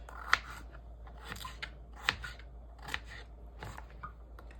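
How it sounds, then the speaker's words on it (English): A knife dices potatoes into pieces for Jamaican curry goat. Crisp, quiet cutting clicks come in an uneven rhythm, close by, with no voices. "I dice them into pieces."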